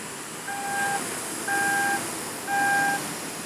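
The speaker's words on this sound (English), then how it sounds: "It'll beep at you to let you know that it's about to close" A BMW trunk sounds three evenly spaced two-tone beeps, each about half a second long, a moderate warning chirp repeating once per second over quiet background hiss before it closes.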